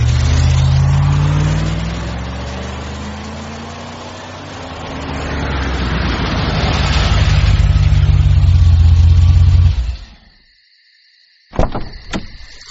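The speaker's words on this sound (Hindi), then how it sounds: "गाड़ी बढ़ा।" A car engine revs and pulls away, a loud rising and falling motor drone with shifting pitch for about ten seconds, then cuts off to near silence, followed by a couple of brief clicks.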